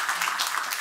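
A church congregation applauds during a Sunday morning service at Toegyewon Holiness Church, welcoming a visiting pastor. The clapping is a brief, dense, steady patter that fills the room at moderate loudness.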